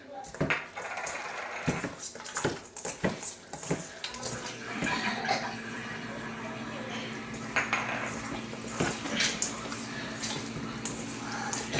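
Lamb chops being stirred into a marinade of salt and black pepper in a bowl, with clinks and scrapes of utensil against dish, busy and close, then a steady wet mixing texture.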